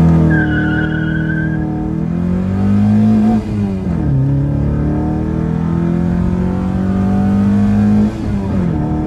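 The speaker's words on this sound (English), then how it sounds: "But we'll do a quick launch with the car" A VW Mk1 fitted with an upgraded 272 cam launches hard, its engine roaring loud and steady close by as revs climb, dip briefly at a gear change, then build again, with a brief tire chirp at the start.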